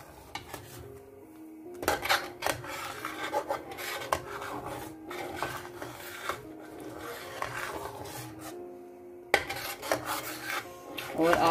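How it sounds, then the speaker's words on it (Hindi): A spoon scrapes continuously around a pot of milk being cooked down for barfi, steady rasping strokes with metallic clinks, swelling and fading in a repeated rhythm, close and fairly quiet. "चम्मच अब आप इसके अंदर मुसलसल चलाते रहें"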